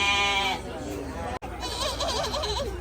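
Goats bleating at an animal fair in Italy, several overlapping wavering cries close by and loud, with a brief break midway and crowd murmur underneath.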